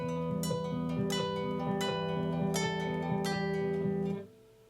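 Romanza picked on a classical guitar, a steady flowing arpeggio of plucked nylon strings with clear melody notes on top, close and even, ringing out for about four seconds before stopping abruptly.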